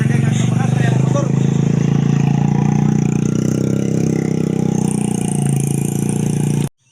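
A motorcycle engine runs loud and close for several seconds, a steady mid-pitched drone that holds before cutting off abruptly, with people talking over it.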